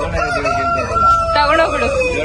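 A rooster at a bird park in Trichy crows loudly and close by in one long, wavering call that fills the whole moment, with faint background murmur.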